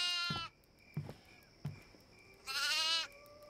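A goat in the horror video game Devour bleats twice, a long harmonic cry at the start and another near the end, with a few soft thumps between, clear and close.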